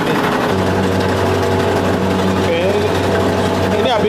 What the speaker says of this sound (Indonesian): Jadi fungsinya mesin penggilingan membuat daun menggulung.